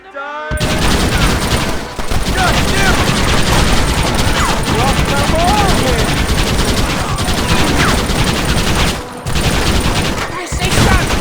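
Dense, continuous gunfire from a Western shootout in the 2010 video game Red Dead Redemption, loud volleys of rapid shots layered over shouting voices, with brief breaks near the end.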